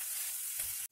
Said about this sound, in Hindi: इसको भून लेंगे अच्छे से प्याज को।